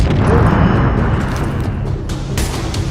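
An explosion in the video game The Division, a loud, dense blast with heavy low rumble filling the whole stretch, followed by a few sharper bursts near the end.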